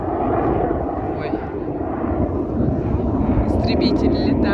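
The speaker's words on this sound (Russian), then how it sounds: "Истребитель летает. Такой звук у него." A fighter jet's loud roaring rumble fills the air overhead, sustained and heavy, with a brief higher whine near the end.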